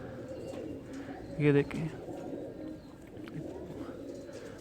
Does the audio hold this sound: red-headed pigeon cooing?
yes